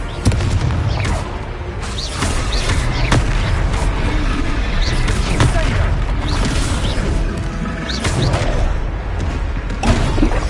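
Confringo fire spell explosions in a Hogwarts Legacy battle: loud, repeated booming blasts and thuds over continuous combat noise, with shouted voices in between.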